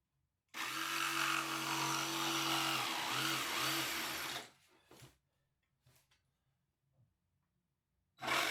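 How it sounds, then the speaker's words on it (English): A jigsaw cuts notches into a 2x4 wood seat for a chair, one loud continuous buzzing cut of about four seconds with a wavering drone, then the saw stops and a few faint knocks follow in quiet. "I'm using the jigsaw, but a bandsaw would be nice also"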